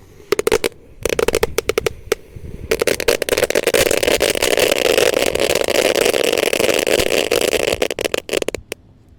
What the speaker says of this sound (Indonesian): mercon telur dino pratek atau kretekan guys. Kita nyalakan ya, kita lihat reaksinya.